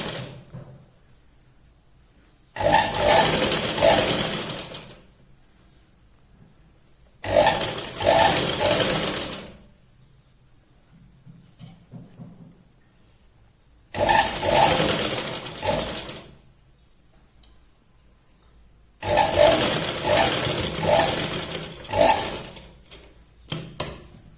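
Sewing machine stitching piping on a katori blouse, running in four separate bursts of a few seconds each with quiet pauses between, close and fairly loud.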